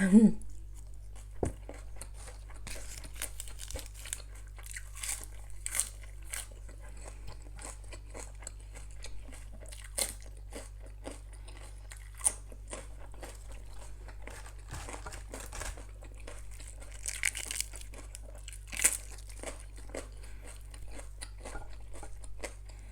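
Someone eats a spicy golden apple snail salad, with close, irregular crunching, crinkling and chewing bursts over a low steady hum and faint background sounds.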